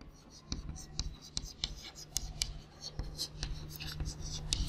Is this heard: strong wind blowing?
no